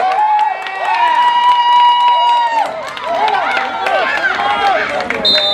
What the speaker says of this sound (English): Round of applause to the Seminoles mascot.